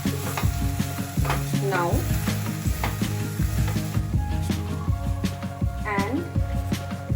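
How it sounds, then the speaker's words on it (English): Dal and vegetables frying and being stirred in a pot for Indian prawn oats khichdi, a steady sizzle with repeated spoon scrapes and clatter against the pot, close and continuous while a person speaks briefly. "fry the dal with the veggies"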